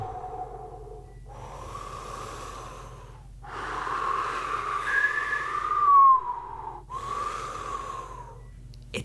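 A voice mimics howling wind with long breathy whooshing bursts that swell and fade, separated by short pauses, loudest near the middle and ending in another rising gust.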